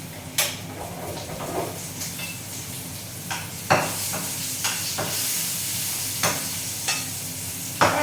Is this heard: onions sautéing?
yes